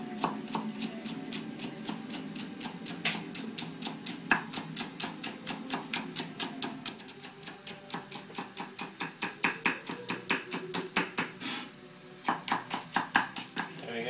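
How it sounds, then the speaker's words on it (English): Spring onions being finely chopped with a knife on a board for Chinese braised pork belly, a fast steady run of close, crisp knife taps that briefly pauses before resuming. "So I have 2 spring onions which we will finely chop."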